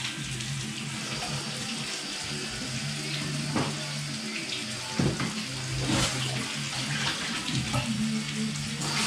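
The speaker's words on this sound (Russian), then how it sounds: "я сковородочку сейчас помою туда-сюда" A frying pan being washed under a running kitchen tap, a steady splashing water stream close by with clanks and scrubbing shifts as the pan is moved about, continuing throughout.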